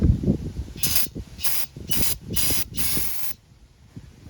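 Five short bursts of brake cleaner aerosol hiss in quick succession close up onto the front of the alternator of a 2001-04 Kia Rio, with clanking handling noises in between, followed by quiet.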